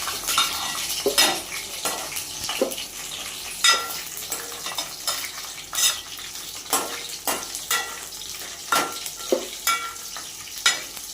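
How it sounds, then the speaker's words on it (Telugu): Dried red chillies, garlic, curry leaves and ajwain fry in a pan with a steady background sizzle, punctuated by repeated sharp clinks and scrapes of a spoon stirring against the metal. "అలాగే ఎండుమిరపకాయలు, వెల్లుల్లిపాయలు, కరివేపాకు, వాము అయితే ఉన్నాయి. ఇప్పుడైతే వేయాలి."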